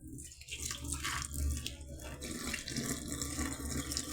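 Hot water mixed with baking powder runs and gurgles steadily down a blocked sink drain, a continuous close splashing flow with no voices.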